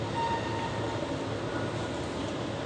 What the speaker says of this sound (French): Et là comme il y a un train qui va arriver, on va le spot.